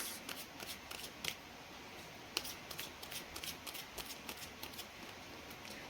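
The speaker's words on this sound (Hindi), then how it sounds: "So I will take 3 cards from angel guidance." Angel guidance cards being shuffled and drawn, a soft, steady riffle broken by crisp flicks and snaps as cards slide and are pulled, quiet and close with no voices.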